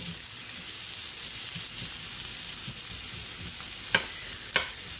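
Fried rice sizzles and crackles steadily in a cast iron skillet, a constant close hiss with soft stirring scrapes and a couple of sharper clinks near the end, no talking.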